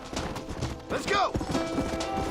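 Horse hooves clip-clopping in the video game Red Dead Redemption, a quick trotting rhythm underneath a voice talking over it, with a brief whinny-like sweep in the middle.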